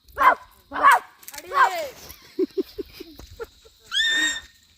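A child imitates a dog, giving a few short barking yips near the microphone between bits of other children's voices, with a higher whining cry at the end, outdoors on a visit to a hilltop Hanuman temple.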